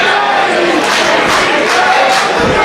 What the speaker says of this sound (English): Crowd getting behind Dickinson.